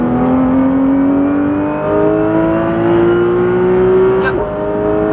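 Porsche 991 GT3 RS powering out of a corner on a race circuit, the loud in-car engine howl rising smoothly through the revs with a brief dip and gear change near the end, while an instructor talks over it.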